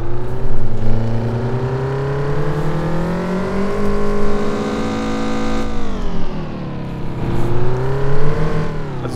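A Mazda Familia's engine in the City Car Driving game, revving steadily and loud through a curve, pitch dipping and rising again as the throttle eases and picks back up, with no voices over it.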